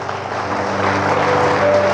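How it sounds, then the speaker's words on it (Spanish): A church congregation applauds with a dense, continuous wash of clapping that holds steady and loud throughout, with no voices on top. "Un aplauso al Rey."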